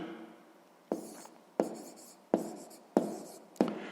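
Pen strokes on paper during a sixth-grade maths exercise, with five sharp scratching taps evenly spaced a little under a second apart, close and clear with no talk.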